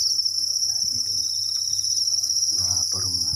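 A crowd of farmed honey crickets keeps up a shrill, unbroken chirping while feeding, with a person briefly speaking over them toward the end.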